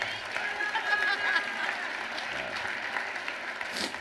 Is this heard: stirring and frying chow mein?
no